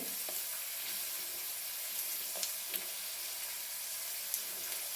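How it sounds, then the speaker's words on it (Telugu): Onions frying in a pan for an onion chili dish, giving a steady close hiss of sizzling oil with a few faint clicks throughout and no talking. "ఆనియన్స్ బాగా ఫ్రై అవ్వాలి"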